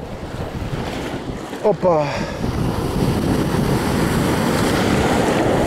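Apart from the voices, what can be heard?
sea waves hitting a kayak, wind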